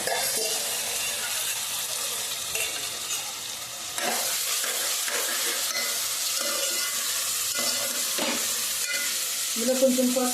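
Prawns cook in a pan as they release their water, with a continuous close sizzle broken by repeated scraping stirs of a spatula. A few louder clatters come near the end.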